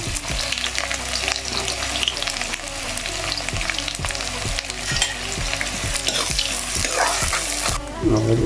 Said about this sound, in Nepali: मेथी प्याज हाल्ने